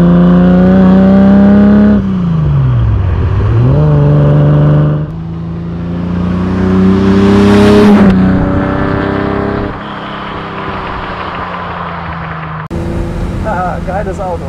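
A 1968 Ferrari 365 GT 2+2 "Queen Mary" with its V12 engine, driven on a road: a loud, close engine drone rises and falls through revs and gear changes, with wind noise and voices speaking in the cabin.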